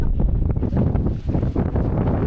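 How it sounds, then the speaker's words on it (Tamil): Strong wind roars steadily around a rope car cabin at a hilltop viewpoint in Palakkad, Kerala, during rain, a loud, continuous low buffeting rush that presses against the cabin. "காற்றுக்கு பாருங்க, செம்ம காற்று அடிக்குது, தள்ளுது"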